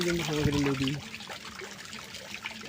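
Stream water rippling and swirling around a bamboo pole driven into a village streambed, a steady close wash of noise, with a voice talking over it at the start.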